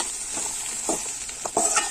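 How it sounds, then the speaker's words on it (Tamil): Okra sizzles steadily in a hot pan for Chettinad-style okra tamarind gravy while a spoon scrapes and stirs through it in short, irregular strokes. "சேர்த்து நல்லா கிண்டி விடுங்க"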